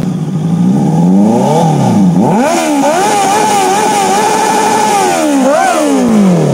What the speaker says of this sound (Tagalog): Parinig naman kami sir ng motor mo.